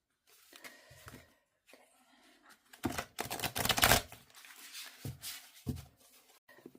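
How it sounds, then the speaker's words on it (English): Tarot cards are shuffled up close in short, crisp bursts of riffling and clicking, separated by quiet pauses, with one longer flurry in the middle. "Shuffle this up again a little bit, because it is in order."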